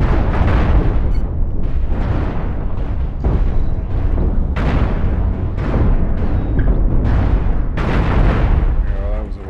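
Repeated booming cannon fire and explosions from spaceship combat in the Cosmoteer space-battle game, a loud continuous barrage of heavy blasts for the whole stretch.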